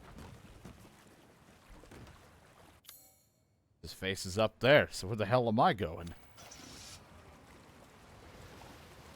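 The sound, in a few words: boat engine running in video game Resident Evil Village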